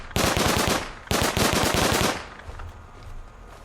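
SMG fire in the video game Rust, aimed at a building: two loud, close bursts of rapid automatic shots, each about a second long, followed by a fading echoing tail.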